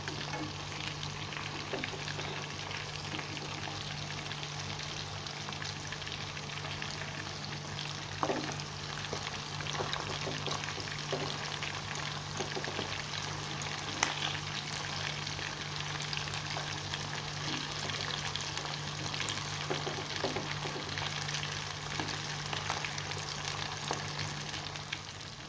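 Fish 65 pieces frying in hot oil, giving a continuous even sizzle and crackle with a low steady hum beneath, moderately close and without voices.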